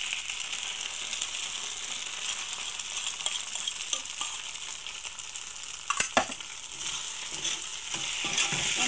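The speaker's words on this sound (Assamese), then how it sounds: "কণীখিনি দিয়াৰ পিছত মই এইখিনি লৰাই দিছোঁ।" Eggs stirred and frying in a pan, a steady soft sizzle with scraping stirs and a few sharp clinks of the utensil against the pan, rising slightly near the end.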